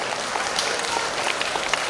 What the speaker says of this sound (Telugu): గట్టిగా చప్పట్లతో అందరూ కూడా ప్లీజ్.